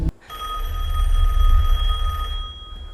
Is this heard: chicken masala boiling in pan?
no